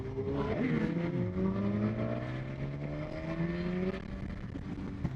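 A BMW HP4 motorcycle engine runs steadily, its pitch climbing smoothly through the revs, then dipping and rising again, heard alone at moderate distance.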